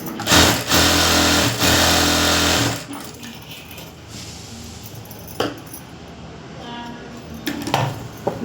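A sewing machine runs in a loud, steady burst for nearly three seconds while stitching a princess-cut blouse, then falls quiet apart from a few light clicks and handling sounds.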